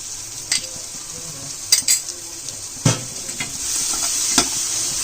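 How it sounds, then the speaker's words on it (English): Ginger garlic paste frying in a pan for Hyderabadi egg biryani, a close steady sizzle broken by several sharp spatula knocks and scrapes against the metal, no speech. "Now I'm adding the ginger garlic paste."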